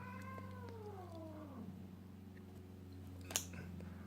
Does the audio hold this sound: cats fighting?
yes